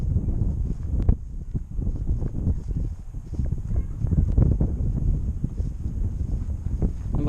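Steady wind buffets the microphone during a test flight of a Visuo XS816 drone, a broad low rumble that continues without a break and swells in gusts.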